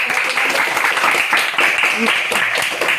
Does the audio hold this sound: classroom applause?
yes